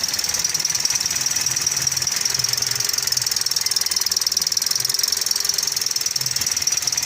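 A 2017 Toyota Vios dual VVT-i engine idles while misfiring, a loud steady fast rattling knock with a high whine layered over it, continuous and close.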